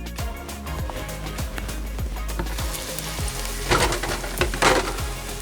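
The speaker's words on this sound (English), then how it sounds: "our onions, they've been cooking up here now for about 5 minutes, so they should be nice and brown and softening up" Onions frying in a pan on the stove, a steady loud sizzle with repeated scraping stirs and louder crackling bursts toward the end.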